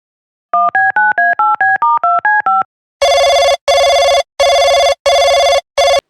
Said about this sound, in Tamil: டைரக்டருக்கு ஃபோன் பண்றேன்